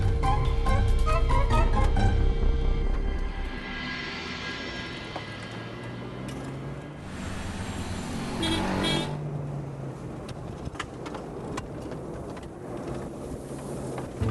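A car drives along a road with a steady rumbling roll of traffic throughout, a horn sounding early on amid the engine noise, then a smoother passing whoosh before the road hum settles.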